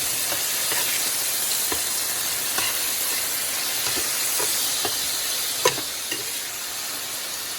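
Pork tenderloin sizzling steadily in a hot pan for a stir fry, a constant loud hiss with occasional small pops and spatters, no talking.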